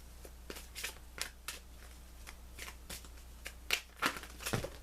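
Tarot cards are shuffled in quick, repeated riffles up close, a series of crisp flapping bursts at a steady rhythm.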